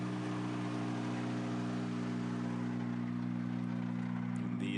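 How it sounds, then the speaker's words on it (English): Hyundai i20 Rally 2 rally car on a Safari Rally stage near Naivasha, a steady droning engine note held at constant pitch for the whole stretch, fairly loud and continuous with a faint broadband hiss and no talk. "Hyundai i20 Rally 2, of course."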